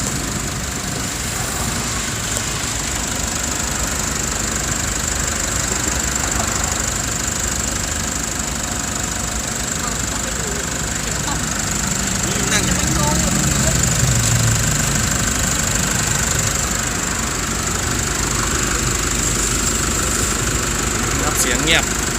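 An Isuzu 1.9 Blue Power diesel engine idles in a steady, even drone close by, with someone talking briefly over it.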